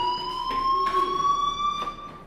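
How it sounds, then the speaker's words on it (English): An electronic fire alarm wails in Life is Strange, a steady high warbling tone held throughout at clear, fairly close volume. "do you hear that fire alarm?"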